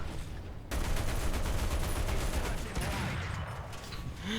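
A sudden loud burst of explosions and rapid gunfire erupts in a War Thunder tank battle, continuous and dense, with faint voices underneath.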